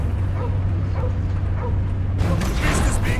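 A dog barks and whimpers in the Guardians of the Galaxy video game, several short yips and barks over a constant loud low hum of game music and mechanical noise, with a burst of bright clatter near the end.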